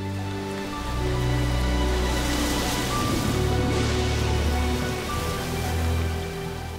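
Heavy rain pours steadily over the Amazon rainforest in Peru, a dense, continuous hiss of drops on leaves and surfaces, loud and close, with no voices.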